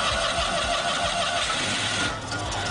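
A vintage Citroën 2CV engine starts and settles into a rough, steady chugging idle, heard continuously at moderate level with a brief dip near the end and no talk.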